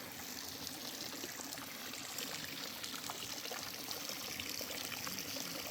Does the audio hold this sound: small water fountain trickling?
yes